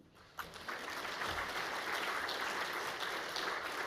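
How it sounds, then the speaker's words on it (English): Audience applause swells after a brief quiet start, then continues as steady clapping from a crowd at a Co-op Congress keynote. "I think you should all give yourself a round of applause"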